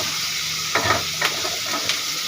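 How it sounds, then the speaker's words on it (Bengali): Prawns and onion sizzle loudly in a hot pan while a spatula scrapes through them in a few quick strokes over steady frying hiss. "ভালো করে চিংড়ি মাছ পেঁয়াজটা ভালো করে লাল লাল করে ভাজা হয়ে গেছে"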